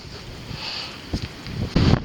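Wind gusts across the microphone outdoors at night in a low, uneven rumble, swelling toward the end, with no talking.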